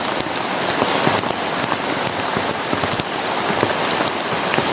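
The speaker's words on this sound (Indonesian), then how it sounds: "Hujannya deras tuh" Heavy rain pours steadily onto a surface, a dense continuous hiss with scattered close drop impacts throughout, loud and unbroken with no voices.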